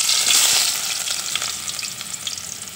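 Onions hit hot oil in a pot for a fish-head and potato curry, giving a loud, bright sizzle that bursts at first and then settles into a steady crackling hiss with no voices.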